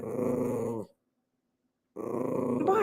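A dog growls low and rumbling at close range in two sustained bursts separated by a second of silence; the second burst turns into a rising whine at the end.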